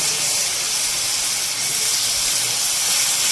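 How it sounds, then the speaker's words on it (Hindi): Pieces of chicken fry in a hot pan for a ginger chicken dish, giving off a loud, unbroken sizzle and hiss that stays even throughout. "चिकन को हमें यहाँ पे अच्छे से फ्राई कर लेना है।"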